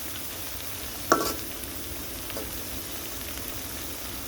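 Hilsa fish fries in mustard masala in a pan with a steady, low sizzle and a single short, sharp crackle near the start, with no talking.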